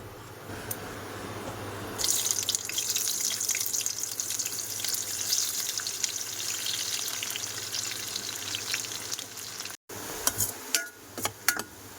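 Sliced onions fry in hot oil for biryani in a home kitchen, a dense, steady sizzle that swells after a couple of seconds, with a brief gap and a few clinks of a utensil toward the end.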